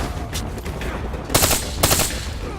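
Bursts of automatic gunfire in the Call of Duty Black Ops 3 video game during a combat mission, with two loud, close volleys standing out over a constant din of battle noise.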